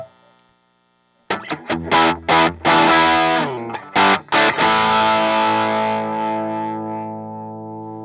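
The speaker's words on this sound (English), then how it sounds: "Meant to be a distortion pedal, doesn't have too much gain," Distorted electric guitar chords through a Maxon OD820 Overdrive Pro pedal set with mild gain, a few choppy stabs and then a sustained ringing chord that slowly decays, played alone.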